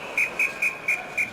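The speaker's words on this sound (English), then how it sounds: "the whistle blows" A referee's whistle at an NHL ice hockey game between the Pittsburgh Penguins and Montreal Canadiens gives five short, shrill, evenly spaced blasts over a steady arena hiss.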